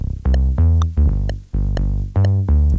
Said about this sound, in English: The first layer is a sub, and it sounds like this